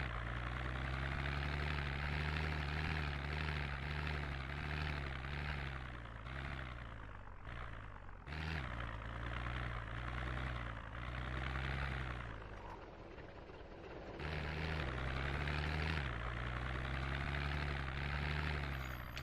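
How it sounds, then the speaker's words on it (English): A car engine idles steadily in the video game Project Zomboid with a low droning rumble, briefly dipping and surging a few times before settling back to a constant hum. "I have got sitting there with my engine running here"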